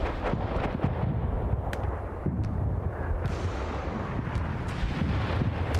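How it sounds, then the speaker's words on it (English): Bombing-run explosions in a video game, a continuous rumbling barrage of deep blasts and artillery-like booms with sharper cracks scattered through, loud and dense throughout. "so bombing run taking out 3 guys here"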